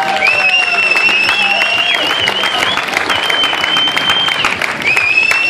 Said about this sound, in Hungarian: Egy nagyon nagy tapsolásnak!